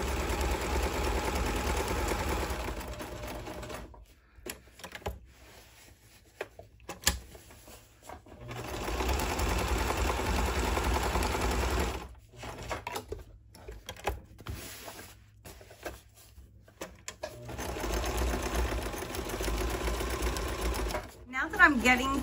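A sewing machine stitches around a banana leaf shaped fabric placemat in long runs of fast, steady mechanical chatter. The runs are broken by short pauses, and a few clicks come near the end.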